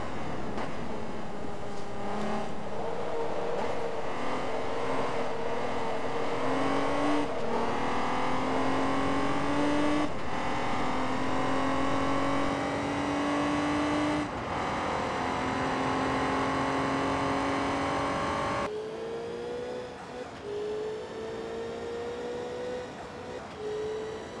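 DTM race cars lap Mugello in Forza Motorsport 2, with several engines droning and repeatedly shifting up through the gears in a continuous, dense roar that briefly dips near the end.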